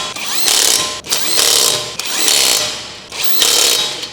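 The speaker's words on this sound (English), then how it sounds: "Use a 19mm socket and electric wrench to tighten the wheel hub bolts." An electric impact wrench with a 19mm socket tightens wheel hub bolts on a 2012-2015 Chevrolet Cruze during strut and coil spring installation, giving four loud, sustained whirring-hammering bursts of about a second each, separated by short pauses, with no talk.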